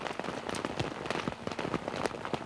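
Heavy tropical rain pounds directly on a camera during a downpour at the 1988 Camel Trophy in Sulawesi, a dense, close, continuous patter of sharp drops with no voices.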